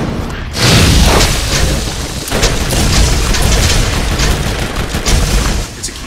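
A grenade explodes in Borderlands with a loud, dense boom that rolls into a sustained roar of crackling blasts and gunfire, staying near and heavy throughout with no talk.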